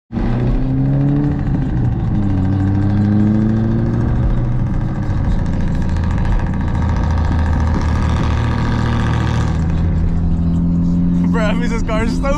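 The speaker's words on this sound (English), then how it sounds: "this car is stupid loud" A loud modified car engine idles with a deep, steady rumble, its pitch rising and falling as it revs, close to the microphone, with a brief voice near the end.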